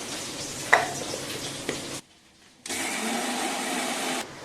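Soaked mustard seeds with water ground into a paste, most likely in a blender, with a loud whirring motor run that cuts out briefly, then starts again and keeps going steadily.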